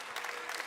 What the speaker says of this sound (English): Round of applause from those who'd hoped he might do it